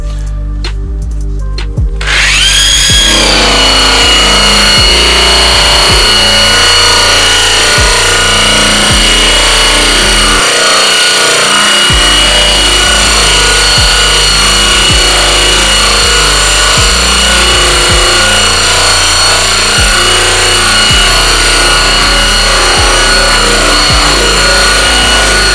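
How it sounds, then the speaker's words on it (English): A satin buff wheel spinning at about 2200 RPM strips clear coat from the polished aluminum skin of a 1960 Streamline RV, a loud, continuous grinding whir with a low rhythmic drone that starts after a brief pause and runs steadily throughout. "grab the Easy Prep wheel from Zephyr. It's our satin buff. Set it about 2200 RPMs and pull backwards."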